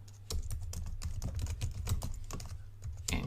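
Rapid, irregular keystrokes clatter on a computer keyboard close by, a steady stream of quiet clicks with no talk.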